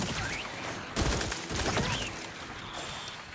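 Gunfire in The Outer Worlds 2 sounds as a few sharp shots and a short burst of fire mixed with game effects and mechanical noise, at moderate loudness with no talk over it.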